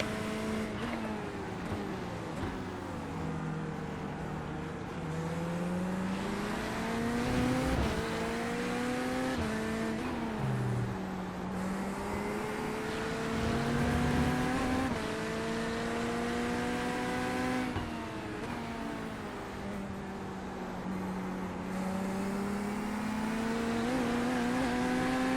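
A Corvette GT3 race car in iRacing at Brands Hatch, its engine droning loud and steady with rising and falling revs through gear changes and corners, continuous throughout with no talk.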